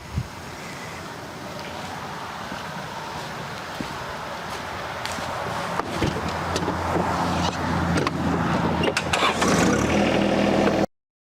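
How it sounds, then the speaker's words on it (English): A steady, rumbling tractor engine runs throughout while mulch is moved into its bucket, growing gradually louder and rougher toward the end, with clattering noises over the drone. "scoot the mulch into the bucket of the tractor"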